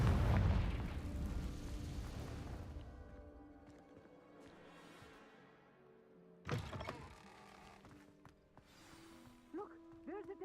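The Confringo blasting spell in the video game Hogwarts Legacy sets off a loud, close explosion that rumbles and slowly fades, followed by quieter thuds and voices talking.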